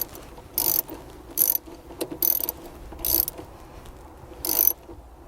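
Ratchet tightening the negative battery terminal on an Audi A4 B9, five separate short bursts of sharp, close ratcheting clicks with quiet gaps between them and no talking.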